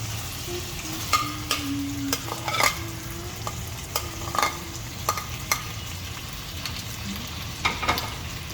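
Boiled macaroni being stirred into a chicken sauce in a pan, with a spoon scraping and clinking against the pan at irregular intervals over a soft sizzle. A faint voice murmurs in the background.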